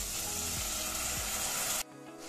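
A spice mix with red chilli powder sizzles in a pan, a soft, even crackle with a few stirring scrapes, stopping suddenly near the end.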